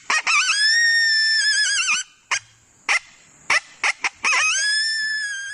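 People imitate coyote calls in a treehouse with loud, wavering high-pitched howls and yips, broken by short sharp yelps before a final sustained howl.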